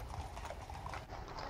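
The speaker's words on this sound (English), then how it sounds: "get to see things like police and the army on horses" Horses' hooves clip-clopping on a central London street as mounted police or army ride through, a steady run of light, fairly quiet hoof strikes amid faint traffic and street ambience.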